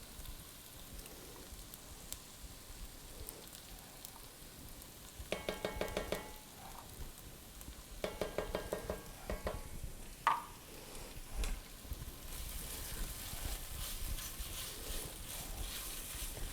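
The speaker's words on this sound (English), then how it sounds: "Just stir that around a little bit, mix it all together." A spoon works tomato paste into a simmering marinara sauce in a pan, making faint, scattered scraping and squelching bursts in short clusters over a quiet background.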